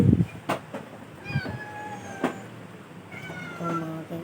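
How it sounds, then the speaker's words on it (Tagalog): Several house cats meow in short, tonal calls scattered through the stretch, fairly close, with some faint background clatter between the cries. "Ito po yung mga pusa."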